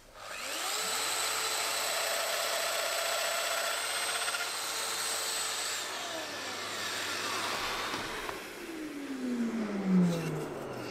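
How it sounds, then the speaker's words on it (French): A domino joiner cuts mortises into solid oak for a bookcase, set at minimum depth with a shim; a steady high-pitched motor whine holds for about eight seconds, then spins down with a falling tone. "la machine à son réglage minimum fait que je vais traverser la matière"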